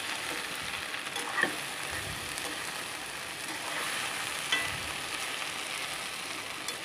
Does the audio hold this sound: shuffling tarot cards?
no